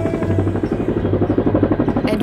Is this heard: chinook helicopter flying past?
yes